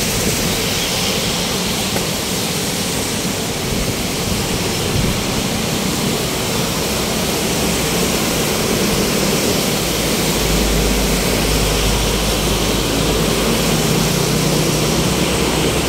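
The Pasig River runs high, a steady broadband rush of flowing water with no break, loud and close, no voices over it.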